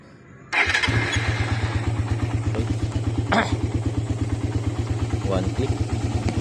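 A Raider motorcycle fitted with a 28mm Keihin carburetor starts on the first try after a brief quiet moment, then settles into a loud, steady, evenly pulsing idle close to the microphone.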